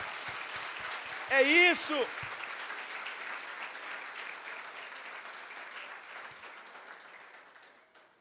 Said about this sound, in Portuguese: Vamos aplaudir o Senhor então, para valer.